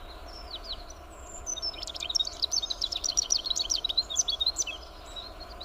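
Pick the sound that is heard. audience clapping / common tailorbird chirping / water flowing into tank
common tailorbird chirping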